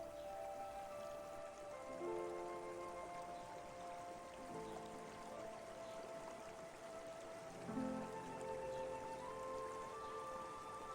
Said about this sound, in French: au loin, vous allez percevoir le bruit de l'eau